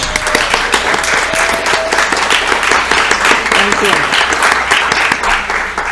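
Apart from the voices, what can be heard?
audience applause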